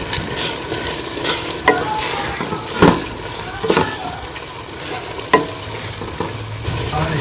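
Vegetables stirred and fried in a pan with whole garam masala, a steady sizzle broken by several sharp scrapes and clatters of the spoon against the pot, close and fairly loud.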